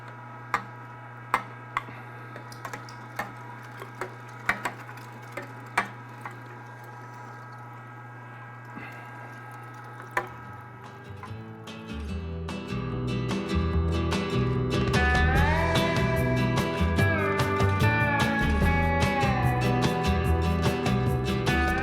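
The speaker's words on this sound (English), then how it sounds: "Now that we're done grinding all the burger, it's time to package it." Meat grinder processing wild game meat into burger: scattered ticks and clicks at first, then the motor starts and a steady, loud grinding whir carries on to the end.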